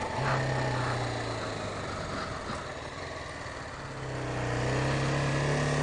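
A 2018 BMW G310R motorcycle pulls away from a stop in second gear, its steady engine drone rising again near the end as throttle is added, loud and close with no talk.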